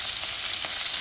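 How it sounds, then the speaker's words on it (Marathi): Fish frying in a pan at home, a loud continuous crackling sizzle with no voices, heard up close. "तर अशा प्रकारे सगळे मासे ते आई फ्राय करून घेते."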